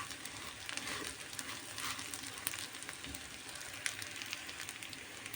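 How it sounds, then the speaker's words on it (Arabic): Rice with cinnamon frying in ghee while it is stirred, for Turkish-style rice. A steady, dense sizzle and crackle runs throughout with small pops, and no one talks. "نبدأ بقى نقلبه كده كويس لحد ما الرز يتشرب كده بالسمنة"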